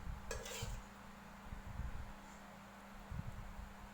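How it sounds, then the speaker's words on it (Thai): Grilled chicken being scooped onto a serving plate in a home kitchen, with close scraping and clinking of a utensil against cookware and plate in short bursts, repeated several times over low background noise. "เดี๋ยวป้าขอตักจัดจานหน่อย"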